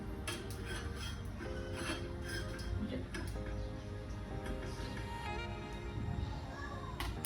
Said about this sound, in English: let's stir it a little